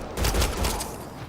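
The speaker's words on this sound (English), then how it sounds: "They shot him!" Burst of rapid gunfire in the video game Mass Effect Andromeda, loud and close with heavy low thuds, packed into just over a second.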